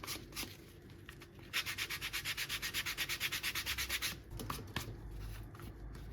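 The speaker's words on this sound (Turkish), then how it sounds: "Şimdi şuradaki yapıştırıcı kalıntılarını temizlemek için zımparalayacağız." Rhythmic back-and-forth hand sanding of glue residue on a leather card holder, a steady run of scratchy strokes in the middle with scattered rubbing before and after.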